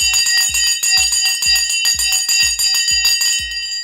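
A stock market opening bell rings in a rapid, steady run of about fifteen bright metallic strikes, loud and close, with no voices over it.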